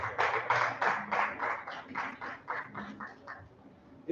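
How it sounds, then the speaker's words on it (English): Audience at a Rotary Club anniversary celebration applauding charter members, a dense burst of clapping that swells early and gradually thins and fades over a few seconds. "Let us give them a round of applause."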